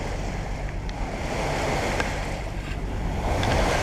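Strong wind of around 30–35 knots roars over the microphone while waves wash and break around a sailboat near La Gomera, a loud continuous rush with surging swells and no talking.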